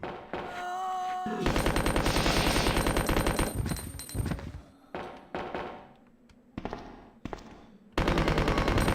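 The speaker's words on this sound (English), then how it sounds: "Who needs anything else with an infinite machine gun, right?" Rapid, sustained machine gun fire in Resident Evil 2, loud and close, coming in long bursts broken by brief pauses, with a final burst at the end.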